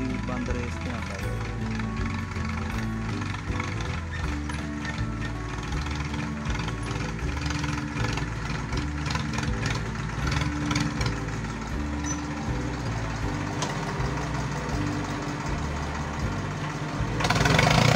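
An Escort tractor engine runs with a steady, throbbing low rumble as it slows down toward idle, close and continuous under someone talking.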